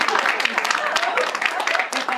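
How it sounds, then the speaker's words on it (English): Graduation audience applauding in a steady, dense wash of clapping that holds for the full stretch, with voices mixed in. "Please, another round of applause."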